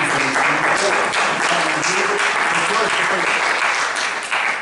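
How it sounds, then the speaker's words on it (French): A theatre audience at a stage show applauds a performer named Florent, a loud, dense, sustained wash of clapping that fills the whole stretch, with a few voices mixed in. "vous pouvez applaudir Florent"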